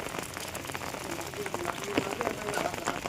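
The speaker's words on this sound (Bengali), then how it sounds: "বাইরে বৃষ্টি হচ্ছে" Steady rain falls outside a rural house beside paddy fields during the monsoon, a continuous hiss of drops on surfaces throughout, with faint scattered knocks and a quiet voice in the background.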